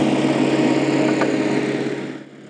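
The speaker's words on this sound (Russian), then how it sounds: "На улице Старого Загора работает тяжелая техника." Heavy road construction machinery works on a city street under renovation, a steady loud engine drone with a broadband rumble that holds for about two seconds, then eases slightly.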